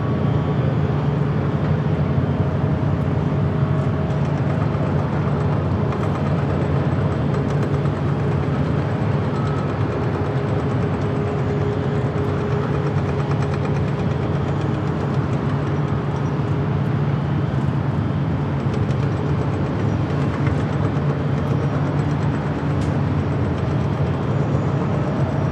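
A Japan Airlines Boeing 787 Dreamliner rolls for takeoff on runway 25 Right at LAX, its jet engines producing a steady, broad roar with a low droning hum that holds for the whole stretch.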